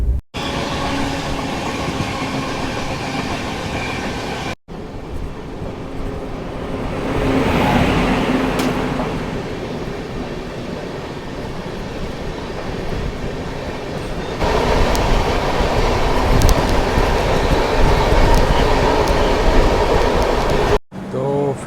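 A Duronto Express train between Chennai and Nizamuddin rolls along the rails with loud, continuous rumbling and rattling, clattering wheel noise swelling and easing, and brief cuts between segments.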